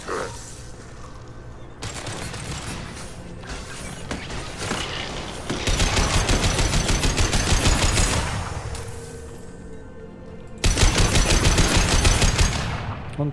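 Turret gunfire in the Mass Effect 2 video game, dense sustained bursts of automatic fire that swell and fade across the scene with mechanical clatter and distant booms, loud and continuous in stretches.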